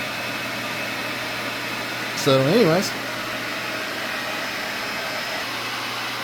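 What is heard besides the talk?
space heater and hair dryer running on power inverter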